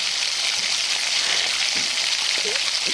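Ginger-cumin paste stir-fried in a pan for a pumpkin ghonto, a loud, constant sizzle close up with a few light scraping strokes underneath.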